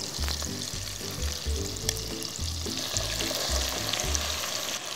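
Chicken pieces fry in a pan with oil and butter, a continuous close sizzle over a repeating low thumping in the background.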